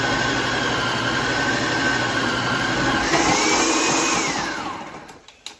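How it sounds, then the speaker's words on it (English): A food processor grating cheese runs loud and steady with a high whirring motor tone, the pitch shifting partway through before it winds down and stops near the end, with a few small knocks. "So, you get your processor, get your cheese in there, and then it's going to be loud."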